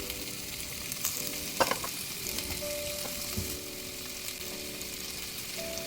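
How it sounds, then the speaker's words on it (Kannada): Prawns fry in a clay pot with a steady sizzle and soft crackling, a few clinks and scrapes of stirring, and a faint tonal hum in the background. "ಇವಾಗ ಇದಕ್ಕೆ ಕ್ಲೀನ್ ಮಾಡಿ ಇಟ್ಕೊಂಡಿರುವ ಪ್ರಾನ್ಸ್ನ ಹಾಕ್ಕೊಳ್ತಾ ಇದ್ದೀನಿ"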